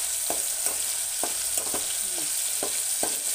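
Spices for a tempering of masoor dal sizzle in hot oil with a constant bright hiss, punctuated by several soft stirring taps against the pan.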